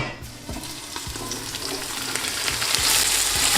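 Onions hiss and crackle in oil in a pan for chicken pulao, with a few soft stirring knocks as the sizzle slowly builds louder, unaccompanied by voices.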